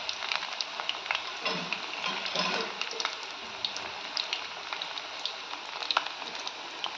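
Cauliflower pieces for gobi 65 deep-frying in oil over a medium flame make a continuous bubbling sizzle, scattered with sharp little pops and crackles, close by and with no one speaking.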